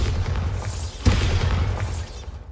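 A Bombarda spell explosion in Hogwarts Legacy, a wizarding action game: one deep boom with a brief crackling burst amid a rumbling din of combat.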